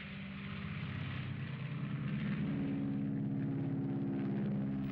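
Small propeller plane droning steadily in flight off the Florida coast toward Fort Lauderdale, a loud, continuous engine hum that holds even and close throughout with no voices.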